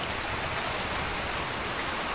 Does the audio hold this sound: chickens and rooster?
no